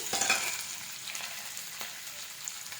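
Green chillies and onion sizzle in hot oil for curry leaf rice, with a steady close crackling fry and a few light stirring scrapes, no voices.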